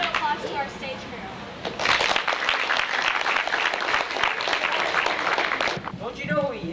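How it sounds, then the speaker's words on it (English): A school audience bursts into sustained applause for the stage crew at a middle school Sherlock Holmes play, loud and full for several seconds, with a voice talking just before and after. "let's give one more round of applause to our stage crew"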